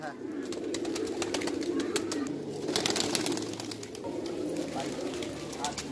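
Kaldom pigeons keep up a low, continuous cooing murmur close by, mixed with a voice and faint rustling.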